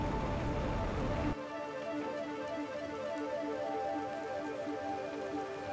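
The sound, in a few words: rain falling in the video game The Planet Crafter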